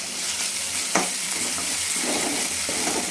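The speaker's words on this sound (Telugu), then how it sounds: "ఆయిల్ హీట్ అయ్యాక చేసి పచ్చిమిరపకాయలు వేసుకోవాలి అల్లం వెల్లిపాయ పేస్ట్ కూడా యాడ్ చేసుకోవాలి" Green chilies and ginger-garlic paste fry in hot oil for fish curry, giving a steady bright sizzle with a sharp crackle burst near the start and faint stirring scrapes, with no voices.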